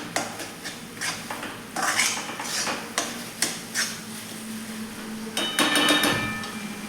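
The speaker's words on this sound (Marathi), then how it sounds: "आपण त्यामध्ये थोडीशी कोथिंबीर घालून घेऊया आणि हे देखील व्यवस्थित यामध्ये मिक्स करून घ्यायचे आहे" A spoon stirs a masala with chopped coriander in a pan, making a string of scraping and clinking metal strokes in an uneven rhythm, close by with no talking.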